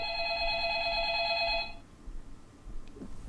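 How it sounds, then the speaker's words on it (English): A studio telephone gives one sustained electronic ring lasting about a second and a half, then stops, leaving faint room noise. "is that our studio phone ringing?"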